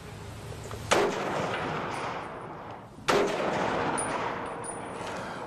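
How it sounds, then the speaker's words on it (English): A gun fired outdoors, two loud sharp shots about two seconds apart, each followed by a long ringing decay. "I've never fired one before, so I want to fire it"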